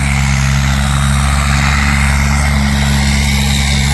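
A tractor approaches across a big tractor pulling ground, its engine a loud, continuous low rumble with steady harmonics throughout, no speech over it.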